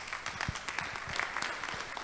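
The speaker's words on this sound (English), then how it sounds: "Another round of applause for her." Audience clapping at a Nigerian Institute of Quantity Surveyors Lagos Chapter annual ceremony, a steady moderate patter of many hands in a hall, fairly soft and even throughout.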